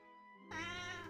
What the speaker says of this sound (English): apologies for the meowing, that is my cat who's just come to